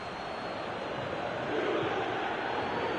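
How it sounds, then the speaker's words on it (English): Football stadium crowd at a match featuring France players, a broad steady roar of many voices that swells slightly midway, sustained and continuous throughout. "Well, the crowd clearly like what they just saw."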